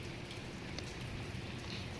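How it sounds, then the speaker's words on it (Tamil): Light rain falls in a steady, quiet patter across the whole stretch, soft and even with no voices. "மழை ஸ்லோவாகி விட்டது"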